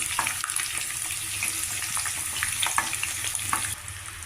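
Chopped capsicum sizzles steadily in a pan of hot oil for a capsicum curry, a close, even frying hiss with soft stirring clicks throughout and no talking.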